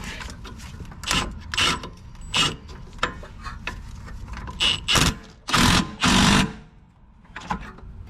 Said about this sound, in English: Okay, bolt is on. just gonna tighten it up.